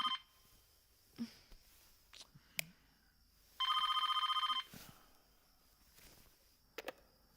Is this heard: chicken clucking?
no